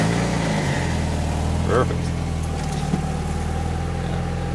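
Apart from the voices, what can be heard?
1991 Mazda Miata MX5 engine starting and idling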